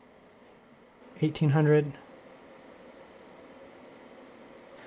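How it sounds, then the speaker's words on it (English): A soft, steady laptop cooler fan hum runs throughout like white noise, with a person briefly speaking over it near the start. "This is a deeper sound, almost like a house fan sound. So it's like a white noise."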